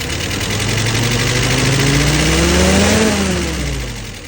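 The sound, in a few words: car engine revving with tuned carburetor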